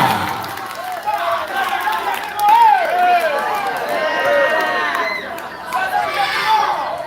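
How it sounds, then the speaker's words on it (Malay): At a school quiz competition final, an audience in a hall cheers and shouts for the teams. The crowd noise is loud and lively, rising and falling, with children's high voices and an announcer speaking over the din. "kami persilahkan kepada semua penonton untuk memberi semangat kepada setiap regu"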